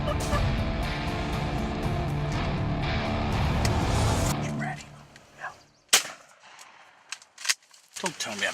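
A loud shotgun blast rings out during a turkey hunt, cutting sharply through the quiet after a stretch of steady outdoor noise, followed by scattered softer knocks and rustles.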